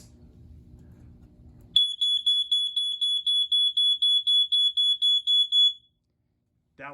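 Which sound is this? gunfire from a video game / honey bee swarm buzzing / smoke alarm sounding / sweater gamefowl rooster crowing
smoke alarm sounding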